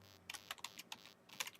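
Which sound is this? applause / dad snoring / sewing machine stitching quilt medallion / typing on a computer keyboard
typing on a computer keyboard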